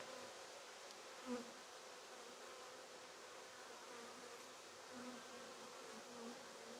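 Plump winter honeybees humming at a hive during a pre-winter apiary visit, a faint, even drone that holds steady with a few slightly louder swells.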